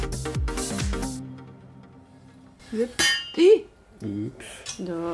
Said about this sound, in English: that was the sound of steel hitting the camera gimbal.